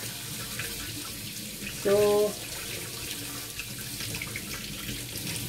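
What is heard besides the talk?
water running from a tap, rinsing with water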